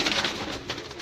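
Pigeons coo close by in a short, continuous burst of soft throaty calls, birds kept by a pigeon fancier.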